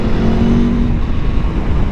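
A 2023 Aprilia Tuono V4 Factory motorcycle's engine drones steadily while being ridden, a loud, close, continuous hum with a held tone that eases off after about a second, plus wind rush and no talking.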